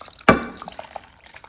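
French onion soup and beef consomme are poured over rice and mushrooms in a baking dish: one sharp splash at the start, then a few soft drips and trickles fading out.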